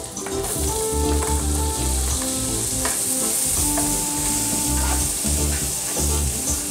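Onion and garlic frying together in a pan for chicken sauce, a steady loud sizzle with stirring scrapes and clatter running throughout, no voices.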